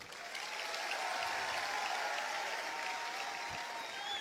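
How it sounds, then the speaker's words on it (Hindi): Sustained applause from an audience, a dense wash of clapping that holds steady for several seconds. "इस चीज पे तालियां मैं चाहता हूं आपसे"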